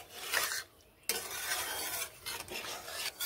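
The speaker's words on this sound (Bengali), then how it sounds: "দিয়ে দিচ্ছি জল মিশিয়ে এইভাবে নেড়ে নিচ্ছি।" Drumstick curry in a pan is stirred after water is added, giving close, rasping scrapes in uneven strokes broken by short pauses over a faint bubbling background.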